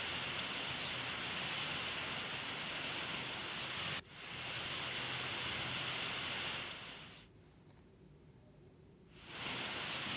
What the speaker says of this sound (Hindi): कुछ तस्वीरें सामने आई जिसमें झमाझम बारिश हुई है